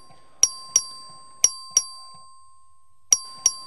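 Voting bell rung by the clerk in the Texas House chamber: six sharp metallic dings with ringing decay, in pairs spread over a few seconds, clear and fairly loud, no talk.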